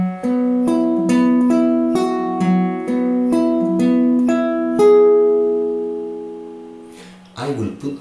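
Measure 29 of a song from Your Name, played fingerstyle on acoustic guitar: a clear sequence of plucked notes and chords that ends on a long ringing tone fading out, followed by a brief rustle.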